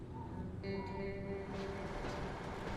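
A train rolling on gently downhill-sloping tracks in a truck-driving video game, a steady rumbling roll with a faint metallic whine and some squeal, moderately quiet and without talking.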